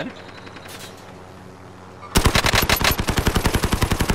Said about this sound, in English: Someone shooting me.